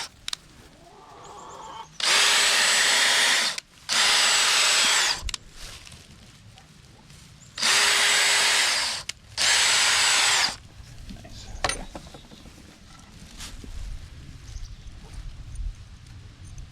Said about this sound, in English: let's try drilling a little bit bigger holes so we can get those eye bolts in